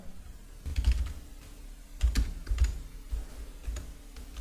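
Typing on a computer keyboard while entering a name into a website sign-up form, with short bursts of close key clicks separated by brief pauses.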